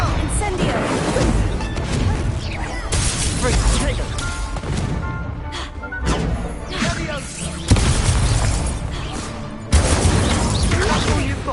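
A fire spell cast in the Hogwarts Legacy video game: heavy booming blasts and crashing impacts erupt repeatedly over a dense, continuous wash of battle noise, with sharp surges near the end.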